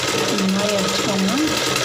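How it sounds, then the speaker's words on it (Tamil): A sewing machine stitching doubled folded cloth for a blouse, a continuous close mechanical whir, with someone talking over it. "ஒரு கிளாத் எடுத்து டபுளாக ஃபோல்டு பண்ணி தைக்கிறேன்."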